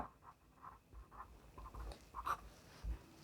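A pen writing on paper, soft and close, with faint scratchy strokes and small taps in an irregular rhythm over quiet room tone.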